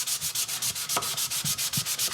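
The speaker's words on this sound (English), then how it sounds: "he was sanding with the orbital" An orbital sander works across a wood surface in close, rhythmic strokes, its hiss swelling and dipping about six times a second with occasional light knocks.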